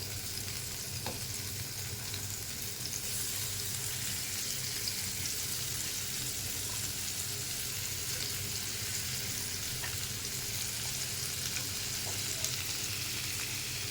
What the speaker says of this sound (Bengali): এখন 1 টেবিল চামচ তেল দিয়ে মাছটা ভাজা দিয়ে দেবো